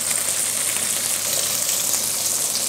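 Chicken thighs fry in a pan with a steady, dense sizzle that holds evenly close by, with no voices over it.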